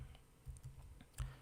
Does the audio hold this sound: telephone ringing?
no